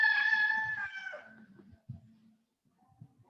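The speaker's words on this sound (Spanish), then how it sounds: "Ya nos cantó el gallo ustedes." A rooster crows once in a long, fading call heard from a distance, followed by faint low room noises and murmurs in a classroom.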